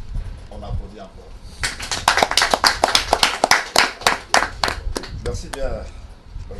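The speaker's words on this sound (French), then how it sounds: "donc on applaudit encore" Audience at a community forum in New York applauding, a burst of hand claps that starts suddenly, swells into dense steady clapping and then thins out, with speech at the start and end.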